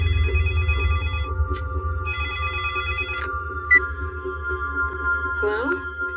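A phone rings at night with two electronic ring bursts of about a second each, separated by a short gap, over a low steady hum. A brief voice is heard near the end.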